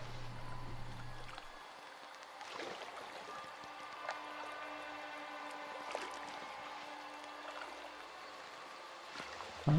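Oars dip and pull through river water while rowing a boat down a river in Outlast 2, a steady trickle and splash with faint creaks, no voices over it.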